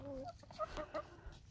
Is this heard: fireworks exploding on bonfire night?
no